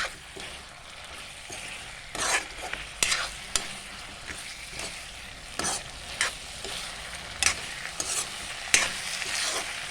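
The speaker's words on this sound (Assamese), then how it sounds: "আলুখিনি এড কৰি মই এতিয়া লৰাই দিম আৰু মই অকণমান গেছটো হাই ফ্লেমত দিম" Potatoes frying in a pan over a high gas flame, a continuous sizzle broken by sharp scraping strokes of a spoon every second or so, close and alone.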